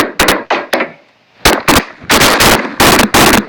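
Rapid bursts of gunfire from the online shooter game Bullet Force, about a dozen sharp loud shots in uneven clusters with a brief lull near the middle, no voices over them.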